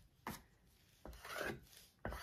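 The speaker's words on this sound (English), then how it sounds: "Scrape her off." Scraper dragging across a surface to clear off wet acrylic pour paint, three close, soft rasping strokes of about a second each, separated by short pauses in a quiet room.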